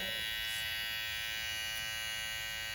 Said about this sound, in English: If you stand your clipper up just a little bit